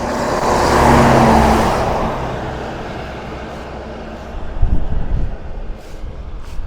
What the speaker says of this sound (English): we're near a busy highway actually, so there's going to be a lot of traffic coming and going